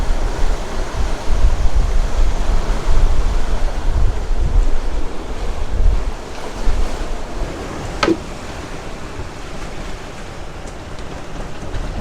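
Rough open-ocean waves slap against the starboard hull of a sailboat in heavy seas of more than four metres and strong gusts, a steady broadband wash with wind noise and one sharper impact partway through.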